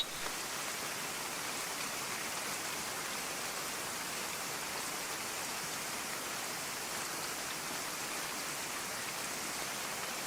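Heavy rain falls in an even, unbroken hiss, soft and steady with no voices or other sounds.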